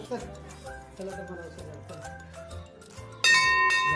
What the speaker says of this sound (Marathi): घंटी वाजव वाजव घंटी